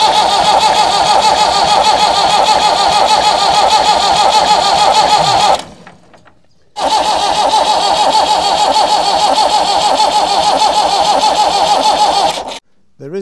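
A 50-year-old diesel tractor engine that has sat for years cranks at full throttle without firing, in two long, steady, loud bursts broken by a short pause.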